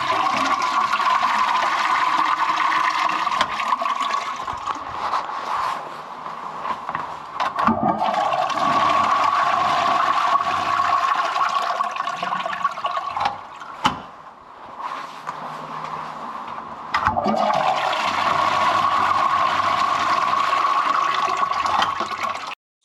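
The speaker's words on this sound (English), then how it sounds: "I'm giving them all a good flush and trying to fill them up right to the top." Toilets backing up from a blocked sewer are flushed repeatedly and refilled, loud rushing water with a brief pause and thump midway before another long, close flush runs to the end.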